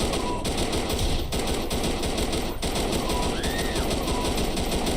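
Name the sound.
gunfire in a video game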